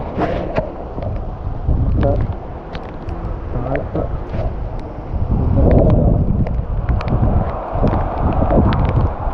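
Gusty wind roars close and loud throughout, with a steady rain-like wash beneath it and brief louder swells.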